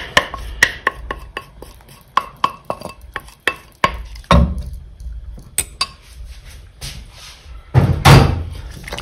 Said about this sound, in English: now we quickly mix everything, and the eggs, they give this kind of a creamy coating to the pasta